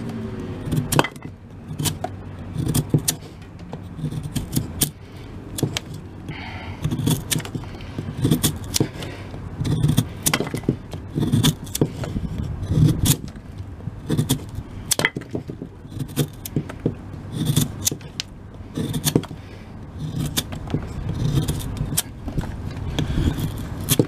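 A Demko 4-Max folding knife makes repeated sharp cutting strokes at close range, each one a crisp scrape or snap in an irregular rhythm, with no talk.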